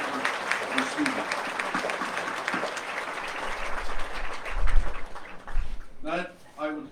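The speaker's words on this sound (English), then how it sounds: "Please give them all a round of applause." A graduation audience applauds in a school ceremony, a broad steady wash of clapping that swells mid-clip before a voice begins speaking near the end.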